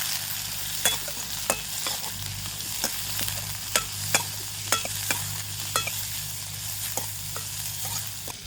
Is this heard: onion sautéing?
yes